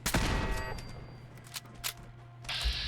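Automated turrets in the video game Fallout 4 fire a few quiet, scattered bursts of gunfire, brief sharp cracks separated by short gaps with no voices.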